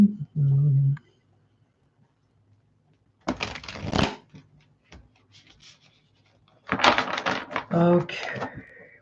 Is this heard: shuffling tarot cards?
yes